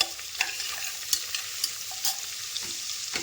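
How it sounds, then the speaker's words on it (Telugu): Thinly sliced onions frying in a pan until brown, an even close sizzle with scattered light scrapes and taps of a spoon stirring, no speech. "ఉల్లిపాయలు అయితే మంచిగా బ్రౌన్ కలర్ వచ్చే వరకు మనం వేయించుకోవాలి బాగా వేగాలండి ఉల్లిపాయలు"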